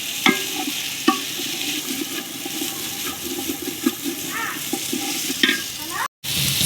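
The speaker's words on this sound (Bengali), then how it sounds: "ভালো করে সবজিগুলোকে দিয়ে তেলের সঙ্গে ভালো করে নাড়বো" Mixed vegetables are stirred in oil with ginger paste in a pot for khichuri, producing a continuous close sizzle with repeated spoon scrapes and knocks against the pot. A brief silent gap comes near the end.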